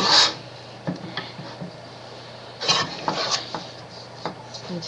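Homemade playdough mixed in a bowl gives a few scraping, clinking strokes: a sharp scrape at the start, then scattered rubbing and tapping bursts around the middle and end, close and alone.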